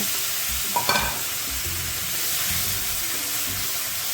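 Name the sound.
stirring ground flat beans in a pan with a spatula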